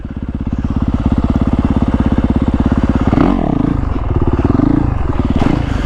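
A motorcycle engine pulses loud and close as the clutch is let out and the bike pulls away from a curb, its steady throbbing firing rising briefly with a clattering surge partway through.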